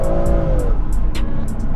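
A BMW M140i hot hatch engine revs and accelerates hard in comfort mode, pitch sweeping as it pulls away, with a steady low rumble throughout.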